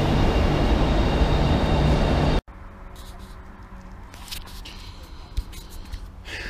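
Loud rushing train noise fills the first two seconds, then cuts to quieter ambience at Madrid's Atocha train station with scattered clatter and a distant hum.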